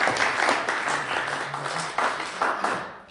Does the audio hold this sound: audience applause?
yes